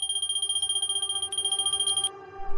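Handheld stock-count scanner reading tags on a shop floor, a rapid, regular stream of high electronic beeps with a steady tonal hum, close and continuous before cutting off near the end.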